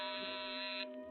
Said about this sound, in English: At 9 that night, I was at home again and the door buzzer sounded.